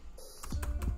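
A few crisp computer keyboard keystrokes type a command in a Linux terminal, close and fairly quiet, spaced irregularly with no talking.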